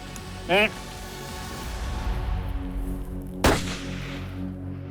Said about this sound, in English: Hunter Terry Davis sent a Remington Core locked ultra-bonded bullet at that trophy muley